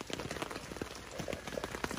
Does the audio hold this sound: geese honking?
no